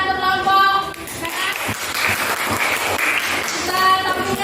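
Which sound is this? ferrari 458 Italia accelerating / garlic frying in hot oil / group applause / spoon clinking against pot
group applause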